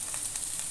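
Chopped onion hits hot oil in a home kitchen pan, giving a steady, soft, hissing sizzle with faint crackles and no talking.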